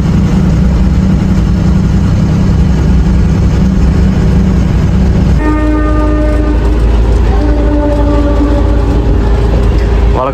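A train passes close by a railway level crossing with a loud, continuous rumble of wheels and cars. Partway through, a sustained multi-tone horn blares, then sounds again in shorter bursts.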